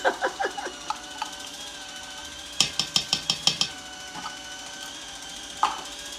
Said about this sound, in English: this can opener is great when it works.